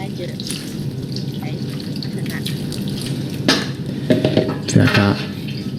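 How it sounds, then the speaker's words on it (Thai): Water poured over sprouting seeds in a metal basin, a steady running splash with drips and a few clanks of the basin, close by with some speech in the background. "ราดน้ำลงไปให้ทั่วเลย"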